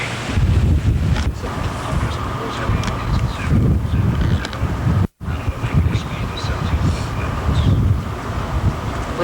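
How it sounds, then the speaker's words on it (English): Steady, loud wind buffeting the microphone together with rushing waves as a boat sails through Lynn Canal, Alaska, in 1993, a continuous broadband roar with a brief dropout midway. "We're sailing through Lynn Canal."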